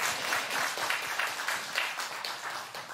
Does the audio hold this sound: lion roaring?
no